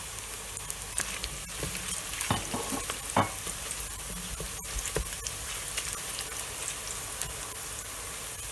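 Onions frying in oil with cinnamon, cardamom and bay leaves, a steady close hiss of sizzling with scattered stirring scrapes and taps against the pan.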